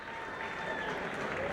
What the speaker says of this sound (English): gets a smattering of applause from the locals here